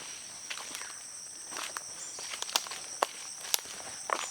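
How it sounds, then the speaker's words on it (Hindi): Footsteps crunch and snap dry twigs and leaves on a jungle floor, sharp irregular cracks over a faint steady background of insects and crickets, moderately close. "देखिए अभी मैं चलूँगा ना जंगल में, आप इसे फील करिए गाइज़"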